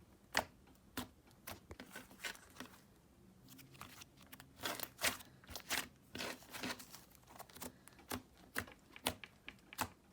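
Soft clay slime squished and pressed by hand, giving a fast run of crisp clicks and crackles at close range, with no talk.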